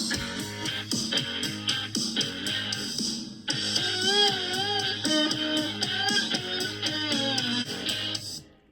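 A five-track rock band recreation in GarageBand, with drums, bass, rhythm guitar and sliding lead guitar playing together, full and loud, slide lines gliding over a driving beat.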